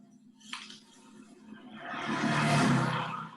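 A voice imitates three motorcycles passing, a rising, roaring engine drone that swells from a soft start to a loud, sustained peak before easing slightly.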